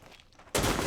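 A sudden loud burst of gunfire in Rainbow Six Siege erupts after a quiet stretch of faint shuffling, a dense close volley of shots lasting to the end.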